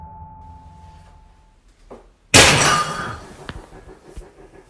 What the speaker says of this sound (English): According to Cardino, the sound was one of her plants falling down